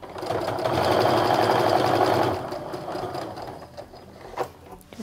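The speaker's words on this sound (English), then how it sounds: "I'm going to go ahead and sew until I have my needle down in what is the left side of the seam allowance." Close and fairly loud, a sewing machine stitches quilt fabric pieces in a rapid, even run of about two seconds, then stops, leaving soft handling clicks and fabric movement.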